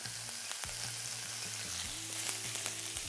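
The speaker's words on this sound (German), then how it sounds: "brate ich jetzt die Hähnchenwürfel an" Steady crackling sizzle of chicken cubes frying in butter in a hot pan, with a low hum underneath and occasional soft pops.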